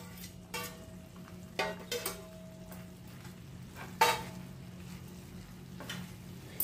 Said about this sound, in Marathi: हलक्या हाताने ढवळून घ्यायचं। चांगलं असं गूळ त्याच्यात मिसळून घ्यायचं।